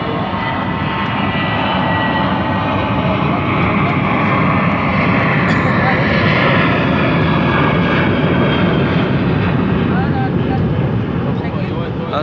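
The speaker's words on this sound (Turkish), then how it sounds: "Uçağın nasıl kalktığını görmedim daha deme." An airplane taking off at Ordu-Giresun airport roars loud and continuous, a dense broadband engine rush that stays steady throughout, with people talking faintly underneath.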